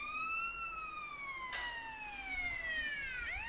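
A video game ambulance siren wails in long sweeping rising and falling tones, steady and moderately loud, with a short sharp burst midway and no talking.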